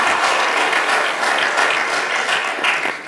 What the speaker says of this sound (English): Could you please clap hands for Babu Mahlangu